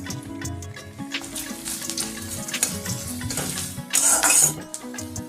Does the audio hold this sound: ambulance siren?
no